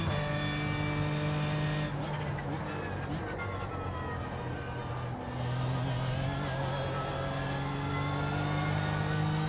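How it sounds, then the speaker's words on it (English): A race car in the iRacing simulator exits a corner with traction control cutting in, the engine note stuttering into a rapid crackling burst before smoothing back into a steady rising drone. "you can hear the traction control kicking in on exit"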